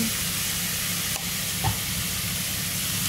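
Vegetables frying in a pan while being stirred, a continuous close sizzle with a couple of brief scraping stirs partway through.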